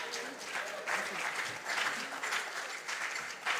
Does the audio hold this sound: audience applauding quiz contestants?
yes